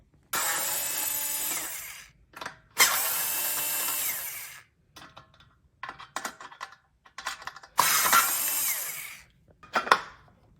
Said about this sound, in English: you have to unscrew these screws so you can fix this base pole over here.